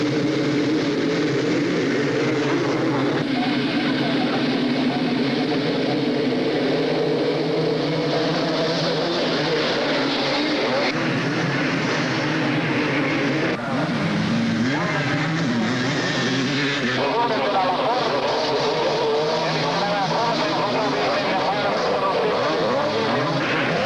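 250cc motocross bikes race at a 1983 Grand Prix in Finland, their two-stroke engines whining loudly and continuously, rising and falling in pitch as riders accelerate and shift, several machines blending into one dense roar.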